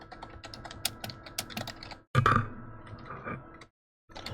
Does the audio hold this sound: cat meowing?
no